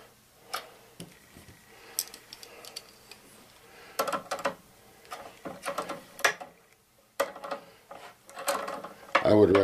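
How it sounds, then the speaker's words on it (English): Small metal parts clicking and ticking as a trigger locking bolt is fitted into a Crosman springer pellet rifle, in scattered bursts of close handling with a brief clatter at the end. "Now we put in our trigger locking bolt."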